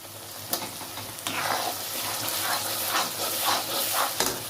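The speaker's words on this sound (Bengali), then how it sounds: "এটাকে ভালো করে কষিয়ে নিতে হবে।" Onion, garlic and green chili paste with tomato paste sizzles and fries in a hot pan while being stirred, a close, loud, steady hiss broken by scraping stirs, for a palak paneer.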